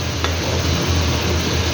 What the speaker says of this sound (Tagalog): Haluin lang to para mahalo din yung carrots.